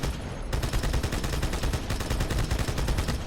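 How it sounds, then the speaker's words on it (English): Turret gunfire in the Halo 2 Anniversary video game, a loud continuous rapid burst of automatic shots in a fast even rhythm, sustained for the whole stretch after a brief opening. "So the addition of turrets like this are really cool."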